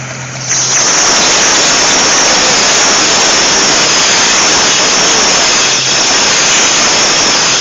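Refrigerant hisses loudly and continuously from the A/C system of a classic car during an R12 to R134 conversion with a failing compressor, a broad steady rush that starts abruptly and fills the whole stretch.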